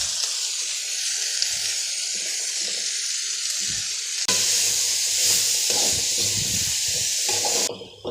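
Chopped ivy gourd sautéing in hot oil with ginger garlic paste, a continuous close sizzle that swells louder partway through.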